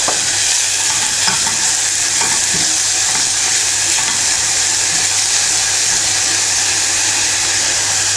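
Sweet peppers frying and caramelizing in a pan, a loud continuous sizzle with occasional stirring scrapes and a steady low hum underneath, close up.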